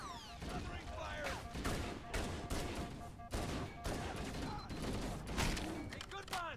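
Rapid gunfire from a Halo game on Legendary difficulty crackles in dense, repeated bursts, with heavier volleys and mechanical clatter. Talk and game voices run beneath and between the shots throughout.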